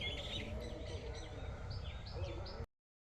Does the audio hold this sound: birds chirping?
yes